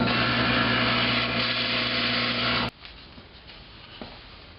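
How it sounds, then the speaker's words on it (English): A power drill bores a 3/4 inch hole through wood for a wooden camera tripod base, a loud steady high-pitched whine running for under three seconds then cutting off abruptly, followed by faint bench noises. "you can go ahead now and drill a 3/4 inch hole here at the center"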